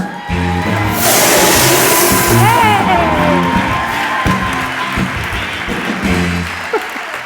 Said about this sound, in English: Please give a warm round of applause for Bloomington's own Lindsay Vertner.